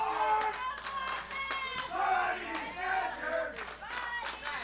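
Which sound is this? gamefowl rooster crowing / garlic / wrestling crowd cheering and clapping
wrestling crowd cheering and clapping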